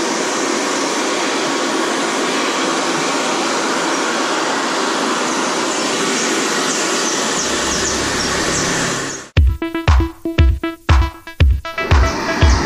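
A heat gun blows a steady, loud hiss of hot air while warming the dashboard lining of a Renault Trafic van, then cuts off abruptly, leaving a few sharp clattering knocks at the end.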